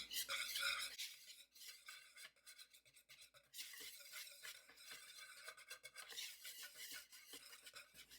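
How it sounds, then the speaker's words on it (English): A whisk stirs dry sweet potato cake ingredients, including salt, together in a mixing bowl, giving a continuous rapid scraping and rasping that stays close and steady throughout with no talking. "I'm going to just whisk that all together and set it aside."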